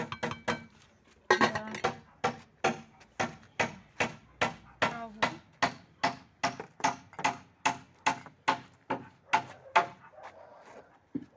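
Someone knocks at the door of a frame house under construction, a long run of sharp, evenly spaced raps close by, steady and insistent, with a short gap near the start.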